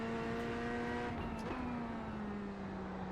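Chevrolet Corvette race car in the iRacing sim, its engine holding a steady, droning note with a slight pitch sag at the end, running loud and continuous throughout.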